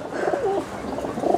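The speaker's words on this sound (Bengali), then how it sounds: "এই খাঁচায় সবগুলো হলুদ চোখের কবুতর, হলুদ চোখের যে হাই ফ্লাইয়ের গিরিবাজ" Caged yellow-eyed Giribaj high-flyer pigeons give soft, rolling coos close by, one gliding call early followed by quieter burbling and another coo near the end.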